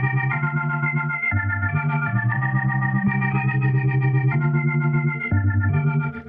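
A Yonac Aries Bombay Special amp simulation with presence switched on plays a sustained, distorted and chorused instrumental line, with notes and chords changing every second or so and no talking.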